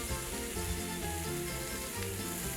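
Onions and celery frying in olive oil, a steady dense sizzle that runs unbroken and fairly loud throughout, close by with no voices.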